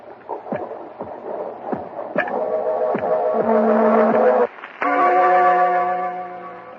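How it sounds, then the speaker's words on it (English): A slow, heavy thumping like a heartbeat, soon joined by a loud sustained droning hum that swells, cuts out briefly, then returns and fades. "that noise you hear is his heart."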